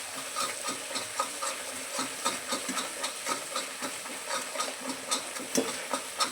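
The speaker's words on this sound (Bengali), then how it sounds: "মশলাটা ফ্রাই হয়ে এসছে, হচ্ছে ঠকে একদম পুরো মশলাটা হয়ে গেছে" Masala paste for mutton curry frying in oil in a pan, giving a steady close hiss and crackle with small irregular spits and pops running throughout, and no talking.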